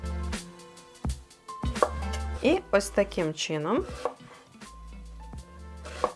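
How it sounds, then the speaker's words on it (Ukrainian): A knife slices an onion lengthwise into thin, feather-like strips on a board for shakshuka, giving a few soft, close cuts while someone talks over them. "тоненько поздовж нарізаю, щоб виходили ось такі пір'їнки"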